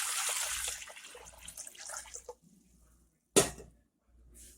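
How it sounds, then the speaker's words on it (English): About two quarts of hot water poured into a crock pot holding meat: a splashing pour for a couple of seconds that tapers off, then a sharp knock and quiet. "Get you about 2 quarts of hot water."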